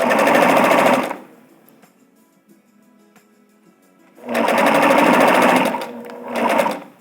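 Sewing machine stitching fabric and elastic together, loud rapid whirring bursts: one run at the start, a quiet pause with faint handling, then a longer run and a short final burst, no speech.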